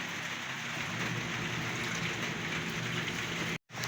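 Heavy rain pours down in a dense, continuous hiss that stays loud and steady, with a brief cut near the end.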